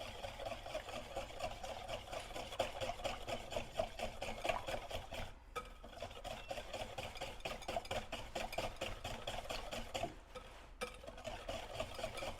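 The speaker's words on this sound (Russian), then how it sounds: "Теперь активно перемешиваем." A mixture seasoned with salt and sugar is stirred vigorously by hand in a bowl, giving a continuous rasping, rubbing scrape with a quick, regular rhythm. It is fairly quiet and close.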